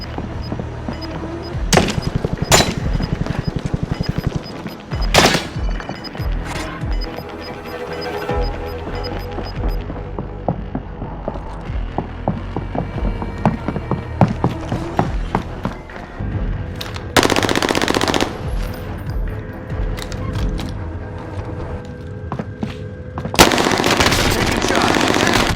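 Rapid automatic gunfire and single shots in the battle royale game Call of Duty Warzone, loud and close, with bursts of machine-gun fire, sharp cracks and heavy thuds over a busy game soundscape.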